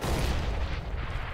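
A flashbang grenade bursts in the video game CS:GO, a dense low boom filling the short moment with a sustained rumbling roar and no voices.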